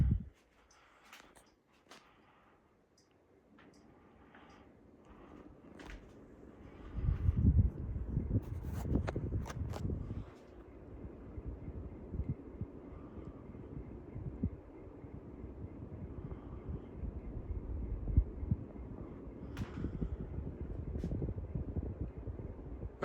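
A 42-inch GE Alaska ceiling fan runs on its high setting, producing a soft, steady airy whoosh and low hum with a few faint bumps and knocks.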